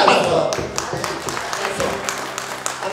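Crowd applause for the hostess at a party with clowns in Mexico: a steady spread of many hands clapping at moderate loudness, with a voice talking over it and some sharper individual claps standing out.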